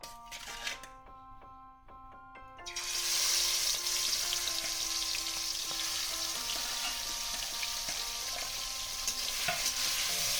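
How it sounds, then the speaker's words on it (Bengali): Prawns coated in salt and turmeric frying in hot oil in a wok (kadai), a loud, steady sizzle that bursts in after a few quiet clattering seconds and holds throughout, with no talk. "চিংড়ি মাছটা আমি লাল লাল করে ভেজে তুলে নিই"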